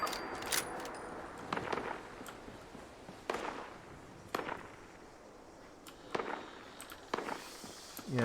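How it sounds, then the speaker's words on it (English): Distant gunfire in Fallout 76 aimed at a player's defensive turrets: faint, scattered snapping cracks at irregular intervals over low background noise. "They're just all shooting at my stuff from way over there."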